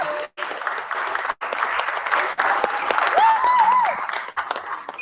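A festival audience claps loudly and continuously for an award at the closing session of a democracy and rights festival, with a couple of brief dips and a short whistle-like tone rising over the applause.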